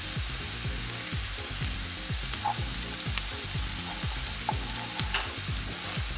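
Chili powder frying in hot oil with garlic in a pan, a continuous close crackling sizzle broken by repeated scraping stirs, no voices.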